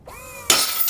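A metal lift strut fitting for an EMG-6 electric motor glider snaps under a load test, with a brief rising creak followed by a sudden sharp crack, loud and close.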